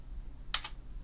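Keys on a computer keyboard pressed while working in Kali Linux, two quick close clicks in a quiet room.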